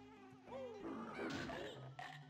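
Bees buzzing in the video game Banjo-Kazooie, a wavering insect drone with rising and falling pitch sweeps, mixed with game music and a brief impact sound over two seconds.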